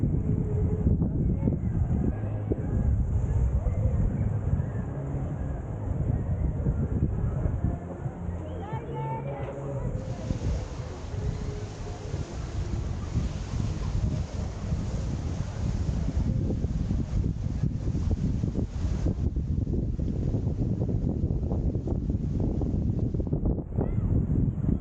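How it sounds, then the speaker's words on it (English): Wind at the seaside on Coco Cay, moderately strong, buffets the microphone in a steady low rumble with rustling, and faint voices and waves sit underneath. "It was just moderately windy this day."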